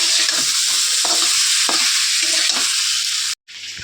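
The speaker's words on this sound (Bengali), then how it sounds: "কষানো হয়ে গেছে তরকারি এবার তেলটাও ছেড়ে দিয়েছে তেল ছেড়ে দিয়েছে এবার গরম জলটা দিয়ে দেবো" A spiced Bengali curry sizzling loudly in its oil just before hot water is added, a dense continuous hiss with periodic stirring scrapes, cutting out briefly near the end.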